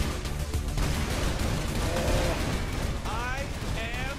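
Video game gunfire in Saints Row IV rattles continuously amid a loud, busy mix of explosive rumble and chaotic game effects, with a few whistling tones near the end.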